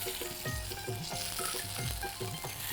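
Spiced meat fries in hot oil, a steady close sizzle with periodic stirring scrapes and pulses running throughout.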